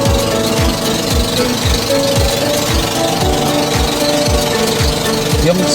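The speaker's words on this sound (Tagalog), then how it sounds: "papaanda rin niya yung pangalawang makina" Second outboard engine of a fully loaded passenger boat at Dingalan, Aurora, running loud and close with a rapid, steady knocking chug and a constant mechanical drone.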